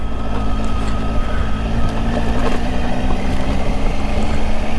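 A Triumph Tiger motorcycle rides a dirt trail in Mendocino National Forest, its engine a loud, continuous drone mixed with heavy wind rush throughout.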